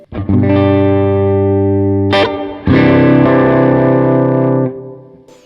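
Loud, heavily distorted electric guitar through a DIY amp at full gain rings out in two long sustained chords with a brief pause between, the second fading slowly with a touch of reverb.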